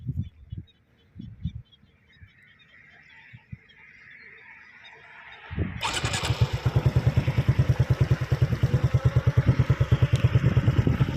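A motorcycle engine with a loud aftermarket exhaust revs hard and settles into a fast, throaty idle, close by, after a few quieter blips at the start.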